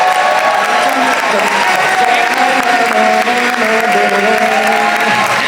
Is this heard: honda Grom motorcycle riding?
no